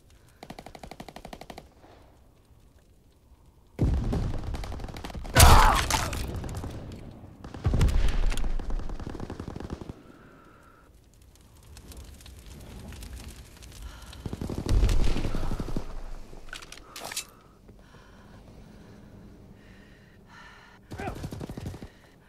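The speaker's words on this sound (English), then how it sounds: "Strafing the target." Aircraft strafing-run gunfire in Call of Duty WWII: heavy machine-gun bursts and booming impacts arrive in several loud waves separated by quieter gaps, with distant battle noise throughout and no talking.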